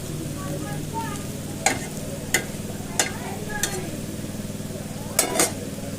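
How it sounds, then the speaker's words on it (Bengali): Bitter gourd frying in a pan, with a steady sizzle throughout and several sharp clacks of a spatula stirring and scraping at irregular intervals, close by. "আজকের উচ্ছে ভাজাটা কিন্তু দারুণ হয়েছে এই দেখো"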